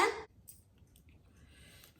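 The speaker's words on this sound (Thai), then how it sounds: "ขนาดหมายังเห่านะคะ" A dog in a lime garden lets out one short, loud bark close by, then only faint outdoor background remains.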